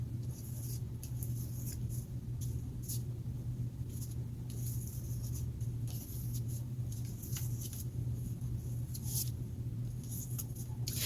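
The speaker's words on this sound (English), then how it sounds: "I'm not pushing very, very hard with my crayon right now." A crayon pressed firmly across folded paper to draw darker crevice lines in a first-grade art lesson, giving repeated short scratchy strokes over a steady low background hum, with no talking.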